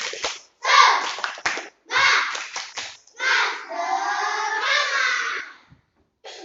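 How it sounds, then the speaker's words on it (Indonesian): A classroom of children claps together in quick rhythmic bursts during a spirit-clap routine, the pattern stopping and starting as the class chants along, then breaking into a longer run of mixed clapping and voices. "Tepuk semangat."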